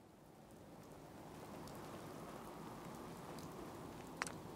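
Steady rain falls across a Fallout 4 game scene in the Contraptions DLC, an even, continuous hiss with no pauses, joined near the end by a brief sharp chirp.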